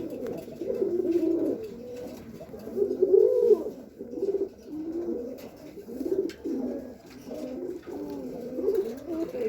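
A home-bred male pigeon coos in repeated throaty, rolling phrases close by, steady and fairly loud throughout with no talk.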